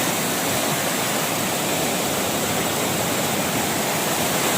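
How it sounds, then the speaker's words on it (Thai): Fast floodwater overflowing a canal in Thung Song, Nakhon Si Thammarat, makes a loud, constant rushing roar close by that never lets up, with no voices. "นี่ครับน้ำไหลเชี่ยวแรงมากเลยครับ"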